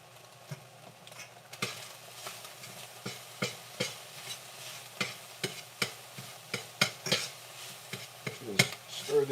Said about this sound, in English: Just stir this. Let it brown it a little bit.